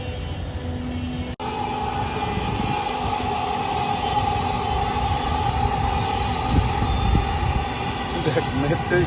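Dhaka metro rail train running close by, a loud, steady rumble with a continuous hum that holds for the whole stretch, broken by one brief drop near the start.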